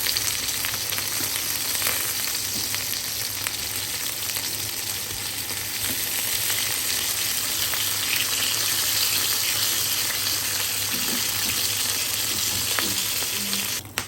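Chicken steak fries in oil in a pan with a dense, continuous sizzle and crackle, faint clinks of stirring now and then, steady and close for the whole stretch.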